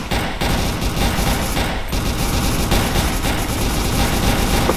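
A video game squad lays down cover fire, a dense continuous fusillade of rifle and machine-gun shots with booms mixed in, loud and close throughout, no voices.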